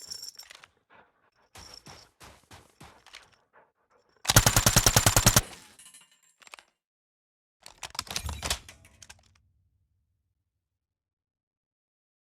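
A sentry gun in a video game fires rapid automatic bursts, one long loud burst in the middle among shorter clusters of shots, with silent gaps between them.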